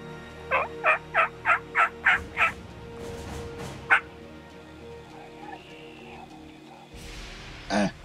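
Wild turkeys gobble in a rapid series of about seven loud, evenly spaced calls, then one more, outdoors during a hunt, with faint later calls and a brief voice near the end.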